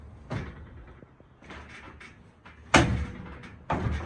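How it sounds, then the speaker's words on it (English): A sliding patio door is pushed across and bumped against a pet door insert, giving several short knocking thuds with sliding rattle between them. The impacts are close, the sharpest near the end, and no one speaks. "bring your sliding door over and slide it into position"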